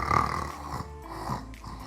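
A man imitates snoring with his voice, giving a rough nasal snort followed by a softer rattling breath, close and fairly quiet, brief and alone.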